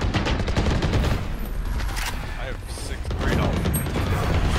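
Rapid gunfire in Valorant, including Desert Eagle shots, crackling in dense bursts at close range across most of the stretch, with a player talking over it.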